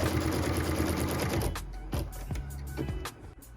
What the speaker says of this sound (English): and then we're ready to stitch.